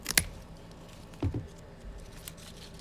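Pruning shears cut back the top of a bougainvillea bonsai, a sharp snip near the start, then a couple of softer clipping and rustling sounds, close and quiet.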